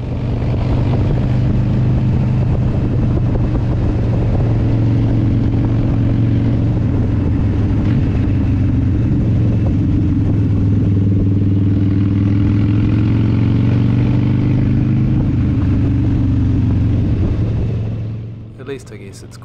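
Harley-Davidson motorcycles ride a gravel road near Pakiri Beach in Auckland, their engines giving a steady, loud low drone with wind rush throughout, easing off at the very end.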